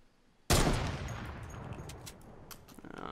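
Gunfire from heavy weapons in the Fortnite video game: a sudden loud blast of shots that decays into a rumbling tail, with a few fainter cracks following.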